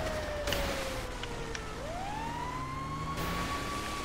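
A fire engine siren from the video game GTA V wails at moderate distance, its pitch sweeping down and then rising again over steady background rumble.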